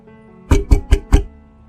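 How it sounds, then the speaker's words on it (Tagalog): Four evenly spaced knocks on a wooden bedroom door, firm and close, in a quick steady rhythm lasting under a second, with quiet surroundings before and after. "Tunog ng katok mula sa pinto ng silid ni Mila."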